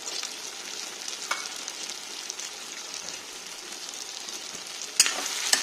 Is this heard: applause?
no